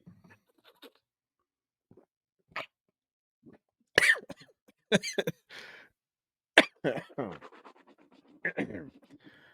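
Several sharp coughs and throat-clearing bursts from a person recovering from illness, close and fairly loud, scattered among quieter scratchy noises and brief pauses.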